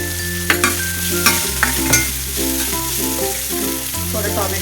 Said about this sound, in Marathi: मसाला तयार करून घेतलाय, मिक्सरला लावून तो टाकूया। चांगला तेलामध्ये भाजून घेऊया। तर थोडा कांदा टाकूया